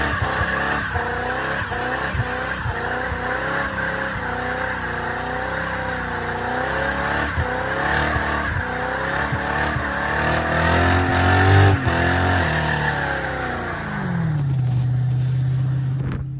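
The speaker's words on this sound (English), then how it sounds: "Still does a burnout." A Holden 253 V8 car roars through a burnout at close range, its engine revving up and down in loud surges over constant tire noise, then settling into a lower idle near the end.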